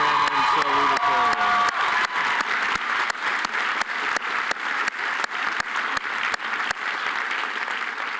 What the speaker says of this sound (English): Please give another round of applause to the 2017 SBC valedictorian and salutatorian.